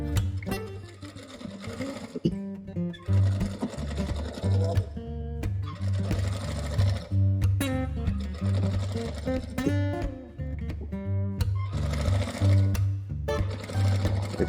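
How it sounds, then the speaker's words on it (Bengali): A tailor's sewing machine stitches a zipper onto a kameez neckline in repeated loud, rapid, rhythmic bursts of whirring needle action, separated by short pauses as the fabric is repositioned. "এইভাবে ধরে এই পাশটা সুন্দরভাবে সেলাই দিয়ে নেবেন"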